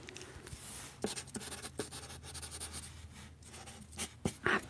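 Handwriting a note with a pen on paper, close quiet scratching strokes with small taps and pauses, intimate and soft.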